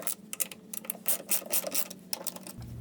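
A ratchet clicks in quick, uneven bursts close up while loosening the 14 mm strut mounting bolts on a third-generation Toyota Camry, with no talking.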